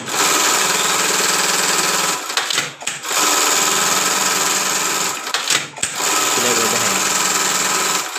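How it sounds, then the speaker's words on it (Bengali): A bartack sewing machine running while stitching, a loud continuous mechanical whir and chatter that stops briefly twice and restarts, close by, with someone speaking over it. "তো আমরা বারটেক মেশিনটা এই সিস্টেমে টাইমিং করছি।"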